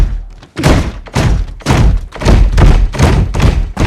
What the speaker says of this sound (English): So Pam tries to open the front door, but unknowingly starts bashing Jeff's head.